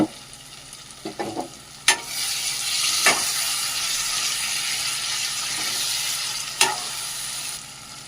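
Drumsticks frying in a pan for an egg and drumstick curry start with a few clicks and clatters, then water goes in and a loud, steady hissing sizzle rises and keeps going, broken by one sharp knock.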